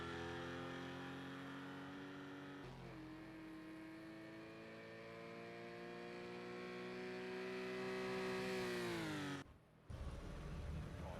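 A GT4 race car in a racing game accelerates back out onto the Rouen Les Essarts short circuit, its engine climbing in a long, steady rising drone, then a sharp shift with a brief dip in pitch before it roars on again.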